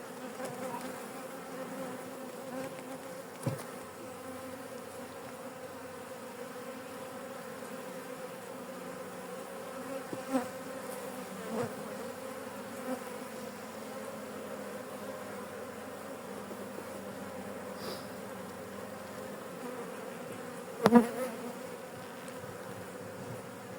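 Honeybees buzz at a hive's landing board in spring, a steady dense drone of many insects close by, continuous throughout with a few brief louder passes.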